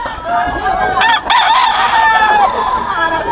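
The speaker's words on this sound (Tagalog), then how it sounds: "Ito po is cock." A pumpkin hatch rooster crows close and loud, one long cock-a-doodle-doo stretching across the whole short stretch.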